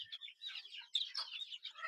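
Backyard chickens that are fed herbal feed cluck and chirp softly nearby in short, overlapping calls, with no talking.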